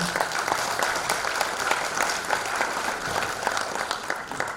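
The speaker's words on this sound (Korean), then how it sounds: "힘찬 박수로 모시겠습니다" A crowd applauds warmly to welcome the party leader onto the stage at a commemoration of the 20th anniversary of the June 15 inter-Korean joint declaration, steady sustained clapping from a large audience.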